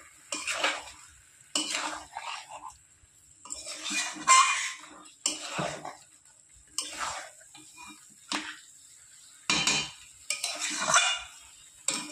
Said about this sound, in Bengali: অল্প আঁচে আমি বারবার নাড়াতেই থাকবো, যতক্ষণ না জল ছাড়বে ততক্ষণ আমি কষিয়ে দেবো।